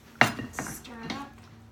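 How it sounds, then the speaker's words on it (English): A utensil stirs honey chicken in a pan, giving a few close, short clinks and scrapes against the metal with quiet gaps between them. "Stir it up."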